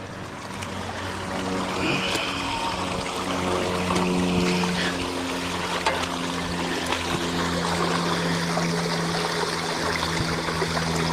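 Clear creek water runs over a rocky bed in a steady, full rush that stays constant throughout, with a low humming drone underneath.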